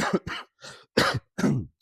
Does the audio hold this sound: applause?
no